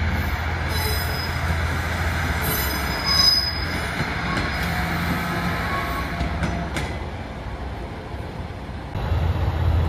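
A JR Shikoku 1500 series diesel railcar rumbles steadily along the tracks at close range in the snowy Tokushima Station depot, with occasional high metallic wheel squeals over the low engine drone.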